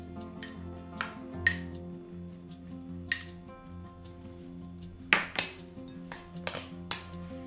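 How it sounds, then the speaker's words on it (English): A spoon clinks against the side of a bowl while chocolate chips are folded into keto chocolate mousse, giving sharp, irregular metallic taps spaced a second or so apart over a quiet background. "now you want to mix in your chocolate chips using a spoon."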